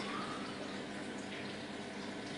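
An aquarium filter spray bar set level with the water surface of an axolotl tank stirs the water, giving a soft, steady, continuous splashing wash with no pauses and no voices.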